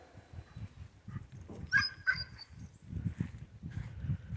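Dogs bark outside at the neighbors, a series of irregular barks and yips with some whimpering, moderately distant and fairly faint against a low background rumble.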